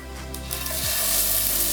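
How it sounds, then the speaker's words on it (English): Food searing in a hot pan gives a steady, loud sizzle and crackle that swells slightly as it goes on, close up with no talking. "I want to sear them on both sides for 2 to 3 minutes"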